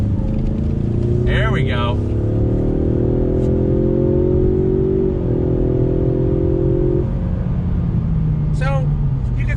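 A Ford Mustang V6 accelerating back on throttle after a bend, a loud steady engine drone rising in pitch, recorded from inside the car with a brief spoken remark over it.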